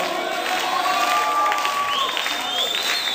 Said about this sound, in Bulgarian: Вие продължайте да пляскате.